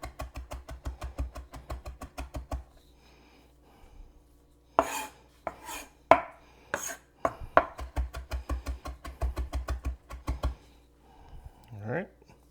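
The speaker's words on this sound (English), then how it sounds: "And just mince it up a little bit" A knife rapidly minces finely julienned ingredients on a cutting board for ahi poke, with fast rhythmic chopping bursts broken by a pause and a few louder, heavier knocks in the middle.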